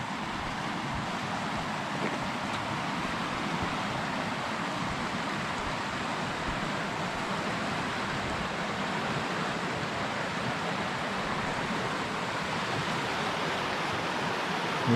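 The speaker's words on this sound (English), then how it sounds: "Right now I'm right down here by the river" A river at Confluence Park rushes steadily nearby, producing a constant broadband wash of flowing water with no pauses or voices.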